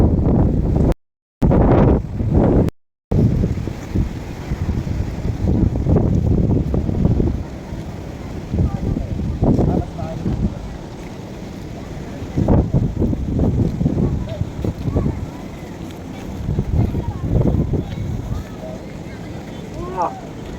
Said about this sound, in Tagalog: Lamig lang po at medyo malakas ang hangin ngayon.